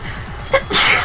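A single close, sharp sneeze, preceded by a short intake of breath, occurs during a Danganronpa 2 gaming session, with quiet background sound underneath.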